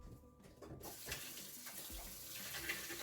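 Warm tap water runs from a faucet onto a tea towel at a kitchen sink, a steady close hiss and splash that picks up after a short quiet start.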